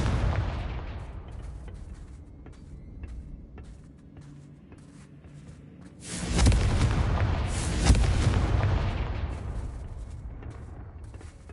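The Confringo explosive spell going off in a video game: a loud, broad blast that bursts in partway through and rumbles on, fading slowly over low battle noise.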